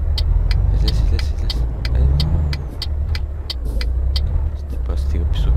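Truck engine in the Euro Truck Simulator video game, a steady low rumble running throughout, with repeated short clicks and voices over it.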